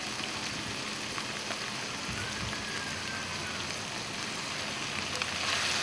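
String beans sizzle in a pot of hot oil for a vegetable kare-kare, with a continuous loud, close frying hiss and a few faint scrapes or clicks underneath, and no voices.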